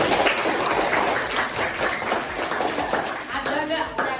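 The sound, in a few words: class clapping for a student group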